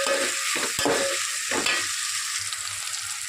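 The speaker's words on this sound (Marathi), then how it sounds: "टोमॅटो पण छान परतून घ्यायचा त्यानंतर आपण त्यामध्ये हिरवी मिरची पण ॲड करणार आहे हे सगळं छान परतून घ्यायचं आहे" Chopped tomato and green chilli stir-fried in a pan for black rajma rice, a loud close sizzle with a few spatula scrapes early on, then a steady hiss.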